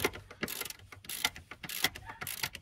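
A hand ratchet clicks in quick repeated strokes while tightening seat bolts on a Toyota Tundra, close and crisp with short pauses between bursts.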